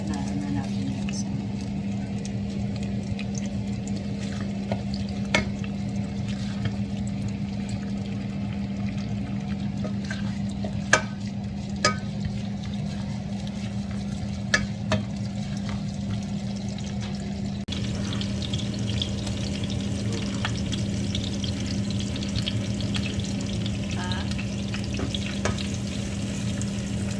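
Onion sizzling in a pan for adobong kangkong, a steady close frying hiss with occasional stirring clicks, continuing throughout.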